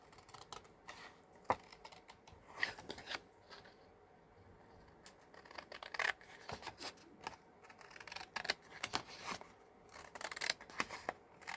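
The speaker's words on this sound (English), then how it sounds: "now we'll just cut this" Scissors snip through paper on a craft table for a floral journal, giving quiet, close, crisp irregular cuts and rustles spread across the stretch without any talk.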